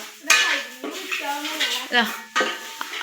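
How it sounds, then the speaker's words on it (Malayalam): Rice roasting in a pan in a home kitchen, with a utensil scraping and stirring in repeated clattering strokes and a light sizzle, close and fairly loud with no talk. "അവള് അരി വറക്കാൻ തുടങ്ങിയിട്ടുണ്ട്"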